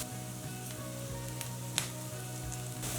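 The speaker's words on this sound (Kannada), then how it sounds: "ಕರಿಬೇವು ಹಾಕ್ಕೊಳ್ತಾ" Curry leaves dropped into hot oil over a low gas flame, with onions already browned, for a raw banana fry; a steady soft sizzle and frying crackle runs throughout, fairly quiet, with a few brief sharper pops and no talking.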